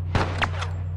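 A single sharp gunshot in The Last of Us cracks out once near the start, then fades quickly over a low steady hum.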